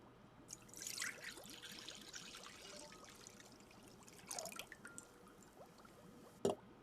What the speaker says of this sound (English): pour the water into the bowl